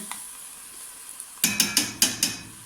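Mustard is stirred into a dish for chicken French-toast lasagne, starting with a quiet pause and a few soft taps, then five quick, close rhythmic scraping strokes of a spoon against the dish.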